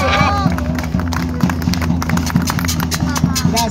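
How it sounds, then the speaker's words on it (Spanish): Rally crowd clapping in a dense, steady wash of applause, loud and close, with a rhythmic low pulse of music or chanting underneath and faint voices mixed in. "¡Fuerte el aplauso!"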